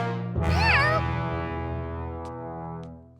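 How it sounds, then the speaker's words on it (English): Cartoon cat gives one clear, wavering meow over a sustained musical tone, with faint ticks as the sound fades out. "Meow? a cat!"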